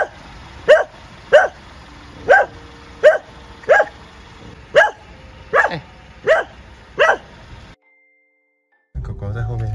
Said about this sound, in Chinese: 哎，狗狗在后面还在叫。